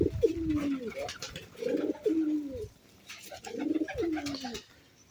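A thin, weak pet pigeon that is eating cooes close by in three throaty, rolling phrases, each about a second long, with quiet pauses between them.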